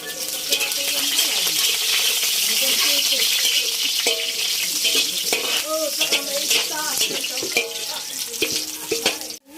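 Garlic and onion sautéing in a hot pan for pancit bato, a steady bright sizzle running throughout with scraping utensil clatter and occasional metallic clinks, close and fairly loud, with no talk.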